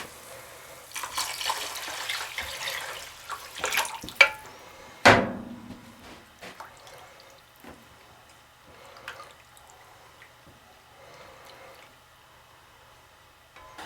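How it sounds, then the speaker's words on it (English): Water pours into a cooking pot for chicken and rice, a rushing splash for a few seconds that ends in a sharp clunk, then settles into quieter drips and small kitchen sounds. "And then 4 cups of water."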